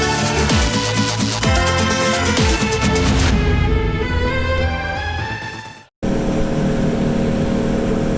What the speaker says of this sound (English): It's about a 10-minute boat ride.